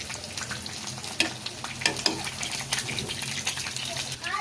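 Broccoli sizzles and crackles in a frying pan as it is stirred, a close, steady frying hiss with irregular scraping and popping accents.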